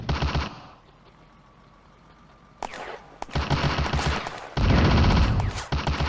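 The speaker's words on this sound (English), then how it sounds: "A machine gun nest" A World War II machine gun nest at Bléneau Railway Station in Firefight fires in loud, rapid bursts that break off, then return with heavy, sustained rattling fire close by.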